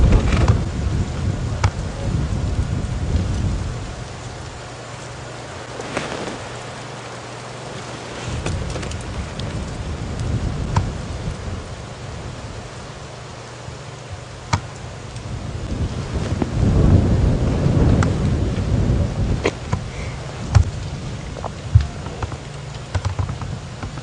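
Strong wind gusts in surges across the open bush during a night safari drive, a roaring rush that swells and fades with a rain-like patter and occasional clicks, no voices.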